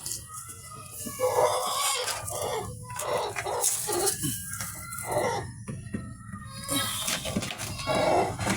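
Black Australorp chickens cluck and call in a busy farmyard, with a rooster crowing among the steady clucking, fairly close and continuous.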